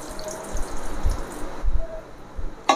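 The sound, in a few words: water being poured for bread pakora batter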